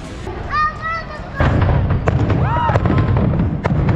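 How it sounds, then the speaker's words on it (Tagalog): New Year fireworks at Niagara burst in a steady stream of booms and crackles, with whistling rising streaks, while excited voices talk over the display. "Yung fireworks! Ayun na!"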